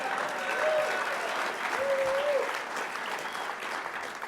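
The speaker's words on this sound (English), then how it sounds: "you can clap for him" Audience applause at the 2019 US Hockey Hall of Fame induction ceremony, a broad steady clapping from a large seated crowd lasting throughout, with a few faint voices beneath it.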